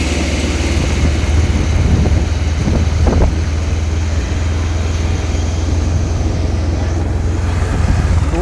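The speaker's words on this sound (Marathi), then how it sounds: "वारा इतका सुटलाय ना कालपासून कंटिन्यू वारा आहे सगळीकडे" Strong outdoor wind buffets the microphone in a steady, loud roar that persists for the whole stretch, with a low rumble and occasional gusts and no talking.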